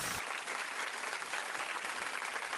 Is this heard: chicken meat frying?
no